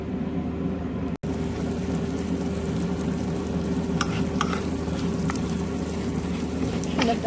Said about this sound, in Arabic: نبدأ نقلي لسان العصفور لما يبدأ يصير لونها أحمر